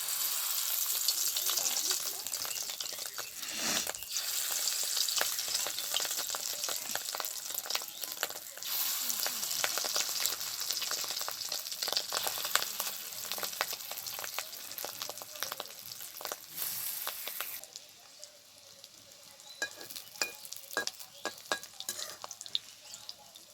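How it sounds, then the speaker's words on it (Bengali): Fish roe fritters fry in hot oil, a dense continuous sizzle with crackling spits and occasional stirring clatter, steady and close throughout, easing slightly toward the end. "এবার বড়ার আকারে এই মাছের ডিমটা দিয়ে ভেজে নেব।"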